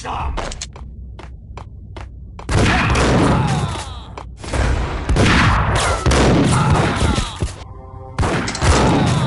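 Gunfire in the video game Max Payne: bursts of loud shots and rapid fusillades, some short isolated cracks early on, then dense sustained volleys, with brief voices among them.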